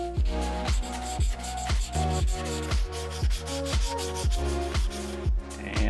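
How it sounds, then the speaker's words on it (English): Rhythmic hand sanding on a Honda Civic's painted stripe and bumper flares, steady back-and-forth rubbing strokes about three per second, close and even, with no voices. "the bumper flares are sanded"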